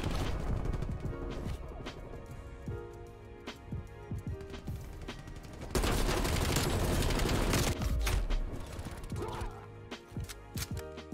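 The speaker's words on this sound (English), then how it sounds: "One of our guys is just crazy sniping right now." Gunfire and mechanical weapon clatter fill a Black Ops Cold War match, with scattered sharp shots and a dense, loud burst in the middle before the action thins out again.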